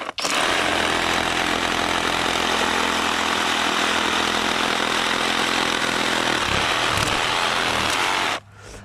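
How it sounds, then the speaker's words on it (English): A Kobalt XTR 24V MAX brushless reciprocating saw cuts straight through a piece of reddish wood, roaring loud and continuous for several seconds before stopping abruptly. "we're gonna test this KOBALT brushless. Let's see how fast it cuts through on a straight cut."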